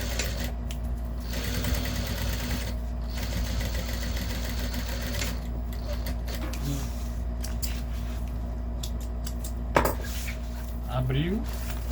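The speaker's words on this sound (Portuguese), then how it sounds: "faz uma costura de pé de máquina novamente" A sewing machine stitches a lunchbox lining in continuous bursts of rapid mechanical clatter, with a steady hum beneath and brief handling noises near the end.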